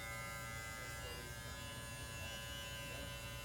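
Electric hair clippers fitted with a taper blade buzzing steadily while cutting hair during a low fade haircut, a close, even electric hum with no talk.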